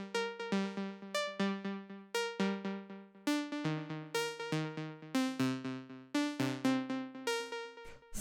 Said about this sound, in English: After that, we have this pluck